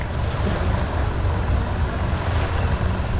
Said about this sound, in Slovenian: No, to pa so motori, kar takole jih imajo. Zadnji propeler sem dvigne.